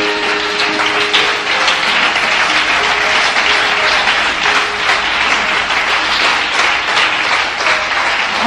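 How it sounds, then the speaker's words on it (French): A church congregation claps and cheers loudly and continuously for over eight seconds, a dense, even wash of applause. "Tiens-toi debout et acclame fort ton Dieu."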